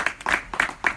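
Four crisp claps spaced evenly, close and moderately loud, from an audience at a certificate-giving ceremony of a Sandhya Vandana training group.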